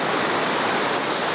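Jeans Run Falls in Lehigh Gorge roars as a steady, loud rush of falling water, a constant broadband wash with no voices.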